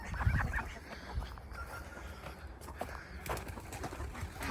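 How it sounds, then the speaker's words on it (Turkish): Crested ducks on a farm give low, soft calls among other fowl and chicks, a faint, scattered chorus of clucks and coos close by. "Pomponlu ördekler"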